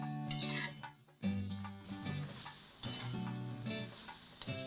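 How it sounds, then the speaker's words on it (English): Sliced onions dry-roasting in a kadai, with a continuous soft sizzle and repeated scraping stirs of a spatula against the pan, close and steady with occasional metallic clinks. "I just roast them in a kadai till the color changes"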